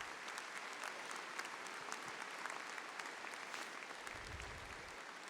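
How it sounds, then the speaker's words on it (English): A large commencement crowd applauds steadily in honor of the armed forces, a dense, even wash of clapping that holds throughout with no voices over it. "Let's have a round of applause for all of them."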